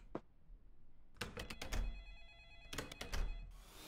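A telephone rings in a quiet room, short electronic bell bursts repeating in two clusters with a thud between, moderately near and alone without talk.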